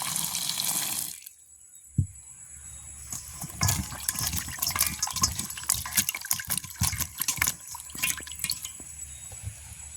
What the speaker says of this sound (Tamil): நாங்கள் இப்போ கத்திரிக்காய் கழுவி எடுப்போம்.